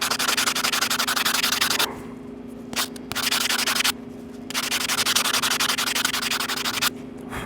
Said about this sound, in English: I can get rid of a lot of this with the sanding block.